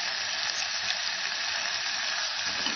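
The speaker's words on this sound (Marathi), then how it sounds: "कांदा आपल्याला डार्क ब्राऊन रंगावर परतून घ्यायचा" Onion, garlic paste and ground masala fry in oil, a dense, even hiss that holds steady and close throughout with no voices.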